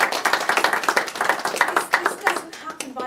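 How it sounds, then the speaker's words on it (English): An audience claps at a council event, a brisk, close round of individual hand claps with an uneven rhythm that thins out toward the end. "I think these guys deserve a special round of applause."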